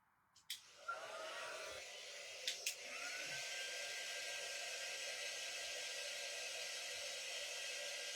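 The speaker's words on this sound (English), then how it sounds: "Let's dry this really quick." A hair dryer switches on after a couple of clicks and runs as a steady, close whirring hiss, drying a floral American flag craft, with a brief bump partway as it settles into a constant blow.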